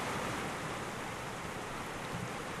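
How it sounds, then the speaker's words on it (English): Steady, dense rushing water from the waterfall ambience in the video game Bejeweled 3 Zen Mode, a continuous broadband roar with no breaks or voices. "We're at a waterfall right now."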